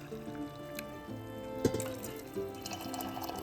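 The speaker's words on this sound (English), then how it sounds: "I'm topping them off with hot water" Hot water poured to top off canning jars packed with two kinds of beans, a steady trickling stream with a brief splash, close and moderately quiet.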